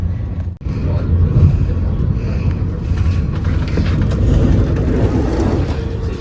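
Steady low rumble and rattling inside a moving train compartment near Cologne, a continuous rolling hum with faint clatter and an abrupt thump near the start.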